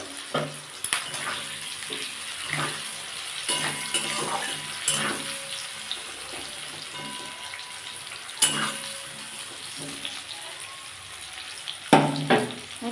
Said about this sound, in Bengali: পেঁয়াজ আর ক্যাপসিকাম একসাথেই এবার ভেজে নেবো একটু অল্প লাল লাল করে